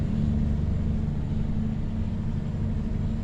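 A truck engine in Farming Simulator 25 runs steadily with a deep, even low rumble, close and constant, with no talking over it.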